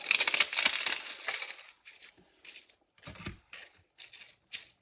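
Tortilla chips are crushed by hand over a bowl of chicken tortilla soup topped with melted cheese, a close crackling burst followed by several shorter crunches with pauses between.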